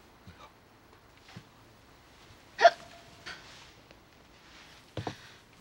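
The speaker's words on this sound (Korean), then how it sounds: "딸꾹질하네." Scattered hiccups from a man in a Korean drama scene: several short, abrupt bursts at uneven intervals, one noticeably louder than the rest, against a quiet indoor background with no talk.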